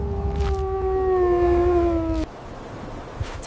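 Large Arctic wolf in an icy polar setting gives a single long, steady howl with a slightly falling pitch, loud and close, ending abruptly after about two seconds and followed by quiet wind-like rumble.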